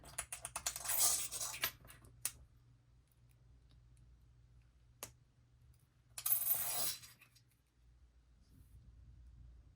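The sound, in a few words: metal clippers cutting charms off earrings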